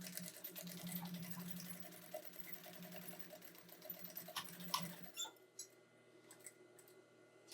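A sewing machine runs at speed, stitching a reinforced end of a seam on an insulated casserole carrier, a fast whirring chatter that stops abruptly about two-thirds through, leaving faint handling clicks.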